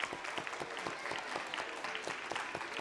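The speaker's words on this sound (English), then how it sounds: "let's everyone give all of our artists, all of our participants, and Shantell a huge round of applause." Applause from an audience at an art event, a dense, lively patter of many hands clapping at moderate distance, sustained and fairly quiet throughout without speech.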